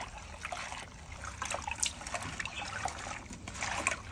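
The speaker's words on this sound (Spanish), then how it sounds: "es lavar bien los bledos" Bledo greens are rinsed under running water: a soft, continuous trickle and splash with small irregular patters, fairly faint and close.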